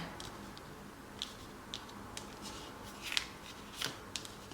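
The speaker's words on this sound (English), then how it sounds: "I'll just tidy this up a little bit, seeing as the cards went everywhere." Scattered tarot cards being gathered and tidied on a surface: soft, irregular taps and brief slides of card stock, quiet and close, with no voices.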